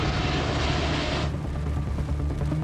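Airbus A380 touching down on a runway while overweight with only about half its brakes working: a loud broadband roar of jet noise that drops to a lower, steadier rumble partway through.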